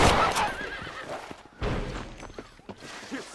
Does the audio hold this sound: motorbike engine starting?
no